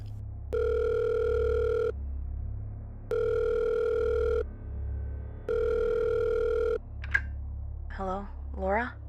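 A telephone handset gives three long, even ringback tones with steady gaps between them. A voice begins speaking afterward.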